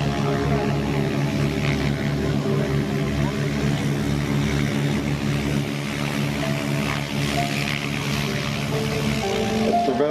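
Propeller airplane engines droning at an airshow, a steady loud multi-tone hum with slight fluctuations as the Belgian display aircraft fly overhead.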